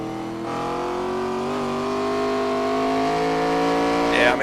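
ARCA Series stock race cars at speed around Lime Rock Park, a loud, steady engine roar with harmonic whine rising gradually as the cars accelerate, sustained throughout with a brief burst of higher-pitched noise near the end; commentators talk over it.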